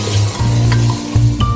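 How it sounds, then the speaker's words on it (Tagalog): Ingredients being sautéed in a hot pan for pancit canton, a loud, close, continuous sizzle with a few stirring scrapes and no talk. "Gisa-gisa lang natin ng konti."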